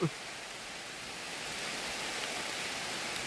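Steady broadband hiss of rain falling, constant and moderately loud throughout, with a brief soft bump at the very start.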